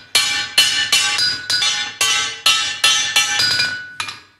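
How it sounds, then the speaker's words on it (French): A retired blacksmith's hammer strikes an anvil in his forge, as when beating plough shares: about nine loud, ringing metallic blows at a steady, even cadence, each tailing off before the next, with no talk. "Le rebond du marteau, si vous voulez, aider à la cadence."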